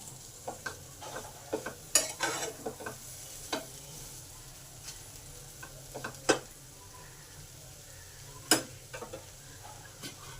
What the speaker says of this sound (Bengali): বেগুনগুলোকেও দিয়ে দেবো দিয়ে ভালো করে কষে নেবো